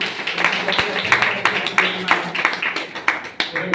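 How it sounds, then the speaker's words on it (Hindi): A seminar audience claps in a brisk, uneven run of sharp hand claps, with voices mixed in underneath. "मोनिका मैडम के लिए एक बार जोरदार ताली बजा दीजिए।"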